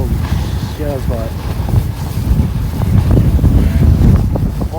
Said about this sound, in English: Oh my God, the wind.